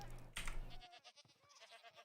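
A screaming goat in the game Minecraft snapshot 21w18a lets out a single loud, harsh bleating scream up close, followed by quieter clicks and faint game sounds.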